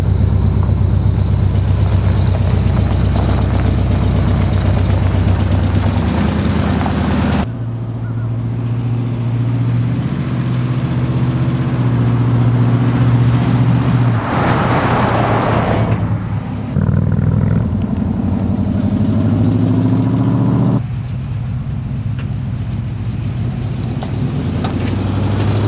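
A lifted Chevy squarebody truck fitted with front and rear sway bars is driven, its engine a loud, near, steady roar with a few abrupt shifts in tone as throttle changes, with no talk over it.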